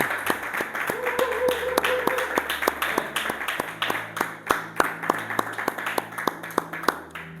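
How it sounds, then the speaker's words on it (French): A church congregation claps together in a steady, even rhythm during worship, the sharp claps repeating in a close, loud beat over a low, sustained musical drone. "Acclamons le Seigneur."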